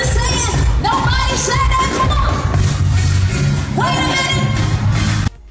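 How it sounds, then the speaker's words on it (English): A crowd roars and cheers at a live singing performance, a loud, dense and sustained wall of voices with whoops and shouts rising over it for about five seconds before cutting off. "you would hear the crowd roar when they see just who all's up there"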